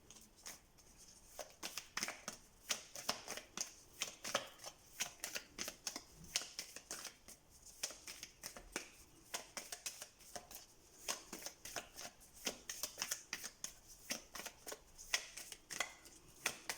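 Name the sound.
shuffling tarot cards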